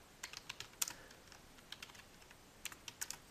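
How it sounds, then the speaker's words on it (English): Typing on a computer keyboard: quiet, close key clicks come in two short runs separated by a brief pause, with individual taps clearly spaced and no talking. "I would go to the National Weather Service website, and I would type in"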